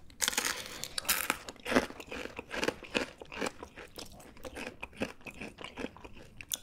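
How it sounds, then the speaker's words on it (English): Crisp, crunchy bites into crispy fried shrimp, a string of sharp crackling crunches with chewing in between, close and fairly loud. "The crispy exterior around the delicate shrimp is the perfect combination"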